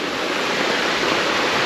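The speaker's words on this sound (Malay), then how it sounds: "Jadi inilah sungai ni" A small, shallow, kid-friendly river runs at the Kalumpang campsite, heard as a steady, dense rush of flowing water close by with no voices.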